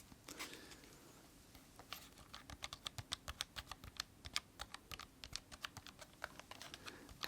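Clicking keys of a computer keyboard with slightly chunky, broad-sounding keys, typed in a steady rapid patter of close, crisp clicks that run throughout.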